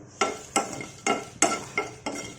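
Ingredients for sesame-coconut spice powder are stirred in a pan, six rhythmic scraping sweeps repeating about every half second, close and crisp over a low frying hiss with no talking.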